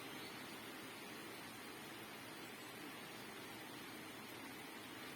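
Coconut pieces fry in hot coconut oil with a soft, even, continuous sizzle, faint and unbroken throughout.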